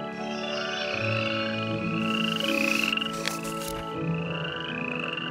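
A chorus of frogs croaks steadily and continuously from nearby rocks, many overlapping voices trilling at once, with a brief burst of rustling noise in the middle.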